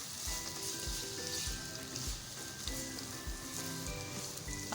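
Two medium onions fry in hot oil with a steady, dense sizzle and light crackle. Small pops and spits break through the sizzle throughout, with no voices.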